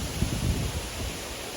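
Wind buffeting a campsite on a wild camping trip, a loud, close, broadband rush with low rumbling gusts across the microphone, no talking.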